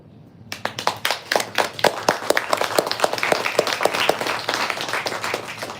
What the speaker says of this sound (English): Thank you guys for clapping.